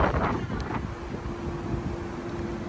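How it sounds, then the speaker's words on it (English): Strong wind buffets the microphone at the Gungahlin Place light rail stop in Canberra, a steady roaring rumble that holds without letup for the whole stretch, with no talking. "It's a very, very windy day, so hopefully you can hear me."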